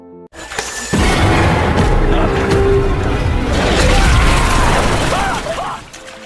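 A loud blast erupts in a tsunami-and-shark disaster film set inside a flooded hotel, followed by sustained rumbling, crashing debris and turbulent roar for several seconds before fading.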